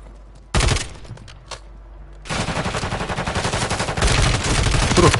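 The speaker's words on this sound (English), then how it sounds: "Who the fuck is he shooting at?" Video game gunfire: a sharp single burst of shots, a short pause with faint clicks, then sustained rapid automatic fire rattling on loudly for several seconds.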